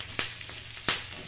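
Onions lightly browning in a pan for mudhi upama, a steady soft sizzle with two brief sharper crackles, close and alone.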